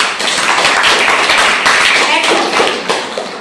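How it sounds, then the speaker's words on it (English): A classroom audience claps loudly for a student during a combustion lesson, a dense, continuous burst of hand claps with a voice mixed in. "Clapping for yourself."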